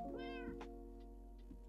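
Short, close meow from a Minecraft kitten riding a boat in a cherry grove survival world, a single call over soft, continuous background music with faint clicks afterward.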